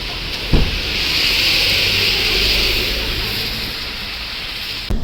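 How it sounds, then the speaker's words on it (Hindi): Heavy rain falls outside during a drive toward Darjeeling, heard as a steady broad hiss throughout, with sharp bumps at the start and end. "और बारिश बाहर बहुत तेज़ हो रही है।"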